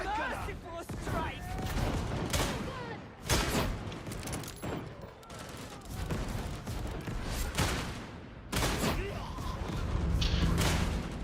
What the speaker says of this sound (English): Trying to shoot with the suppression.